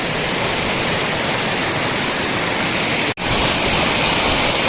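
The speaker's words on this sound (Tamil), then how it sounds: "செம்மையாக வந்து அருவி வந்து ஆர்ப்பரிச்சு கொட்டுது" The waterfall at Kolli Hills roars as a dense, continuous rush of water close by, with a momentary cut near the end and no voices.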